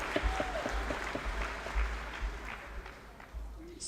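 Audience applause for Connor and Jesse at the Project Hope Strut For The Cure 2019 event, a fairly quiet, steady patter of clapping lasting a few seconds, with faint voices underneath.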